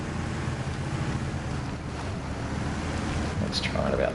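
Heavy off-road truck wading through a river in SnowRunner, with a low rumbling engine under rushing, splashing water and a windy wash of noise, fairly loud and continuous.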